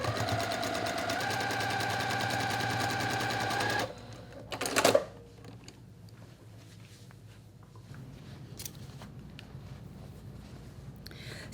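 Sewing machine stitching a seam on a quilt block, a rapid even mechanical rattle running for about four seconds before stopping, followed by a brief rustle and quiet handling noises.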